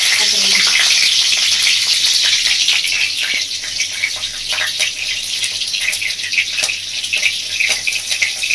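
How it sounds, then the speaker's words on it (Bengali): Chopped green chilies dropped into hot oil in a pan for a Bengali fish curry, giving a loud, continuous crackling sizzle with fine popping spatter close up. "এবার তেলের মধ্যে দিয়ে দিচ্ছি কাঁচা লঙ্কা"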